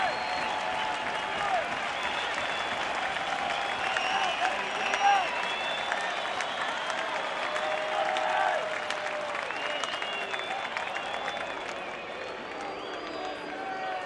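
Crowd at a Chicago Cubs versus San Francisco Giants NLDS Game 3 baseball game, cheering and applauding in a sustained, roaring wash of sound, with broadcast commentary faintly underneath.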